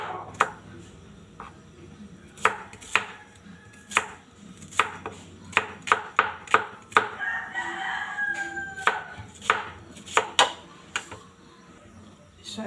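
Knife chopping an onion on a board in a home kitchen, a run of sharp, irregular close thuds spaced unevenly with short pauses, while a rooster crows and clucks faintly in the background.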